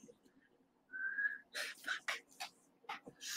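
A person gives one short, weak whistled note, followed by breathy voices and talking.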